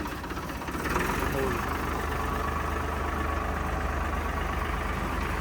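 A heavy diesel Farmtrac 60 tractor engine idles steadily nearby, a low rumbling chug throughout, rising slightly in intensity after the first second.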